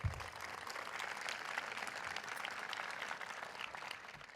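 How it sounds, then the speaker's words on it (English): Audience applause at a celebration of life honoring Buddy Teevens, greeting his wife Susan; a quiet, steady patter of many hands, somewhat distant, lasting the whole stretch and fading slightly near the end. "How about a round of applause for Susan?"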